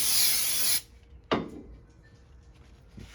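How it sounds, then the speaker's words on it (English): Brake cleaner hisses from an aerosol can onto belt parts of a Polaris Ranger 900xp in a single close burst of under a second. A sharp clank follows, then quiet handling noises. "And I'll spray it one more time."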